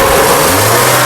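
A Honda Amaze running on CNG, recently repaired for jerking and misfiring, revs loudly and close up with a steady, strong engine drone throughout.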